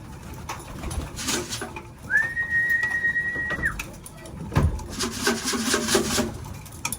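Racing pigeons settle in their loft after a long race, with soft coos and wing and body rustles close by, and a steady whistle-like tone drawn out for a second or two in the middle.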